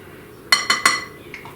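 Three quick metal teaspoon clinks against a container while baking powder is measured for a homemade four-ingredient pancake mix, close and crisp, followed by two softer taps.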